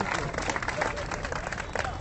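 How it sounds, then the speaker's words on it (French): A street-performance crowd at Nuit Debout on Place de la République applauds steadily for the whole stretch, a dense, continuous patter of clapping with voices mixed in. "Bravo, mais vous pouvez applaudir"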